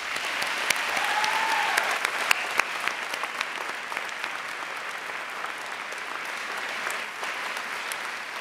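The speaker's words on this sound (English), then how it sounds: "I think you all deserve a round of applause" A large commencement ceremony crowd gives sustained applause for the parents of the graduating class of 2007, a dense, even wash of clapping lasting several seconds with no talking over it.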